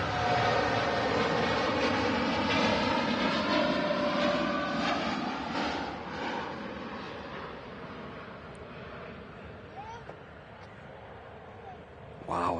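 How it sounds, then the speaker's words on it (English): A jet airliner bound for Jamaica takes off from Manchester Airport, its engine roar loud and broad at first, then slowly fading as it climbs away and grows more distant. "them wings really flexing as the aircraft takes to the skies"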